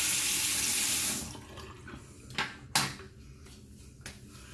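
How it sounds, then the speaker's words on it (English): Bathroom tap water running into a sink for rinsing off after a shave, a steady close splashing gush for about a second before shutting off, followed by a few faint knocks and taps. "Let me get rinsed off."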